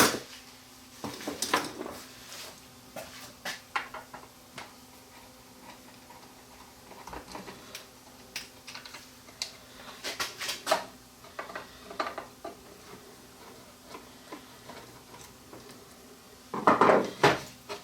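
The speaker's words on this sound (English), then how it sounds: "So I'll pull the side cover off this thing" Slotted screws being backed out and the side cover lifted off a Sony VP2000 U-matic playback machine with a main motor fault: scattered close metallic ticks and clicks in a quiet room, ending in a brief rattling clatter.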